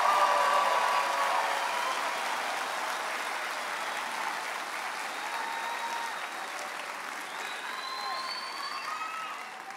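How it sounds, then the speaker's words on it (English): A large audience at a spring university commencement ceremony applauds its graduates in a dense, sustained roar of clapping that slowly eases over the span. "Let's give our graduates a final round of applause."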